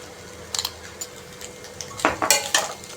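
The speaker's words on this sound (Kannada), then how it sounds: "ಉಪ್ಪು ಹಾಕಿ ಮಿಕ್ಸ್ ಮಾಡಿಕೊಳ್ಬೇಕು, ಚೆನ್ನಾಗಿ ಮಿಕ್ಸ್ ಮಾಡಿಕೊಳ್ಬೇಕು" A spoon scrapes and clinks against a pan while sabudana khichdi is mixed with salt, sparse metallic taps at first, then a busier cluster of scraping strokes near the end over a faint background hum.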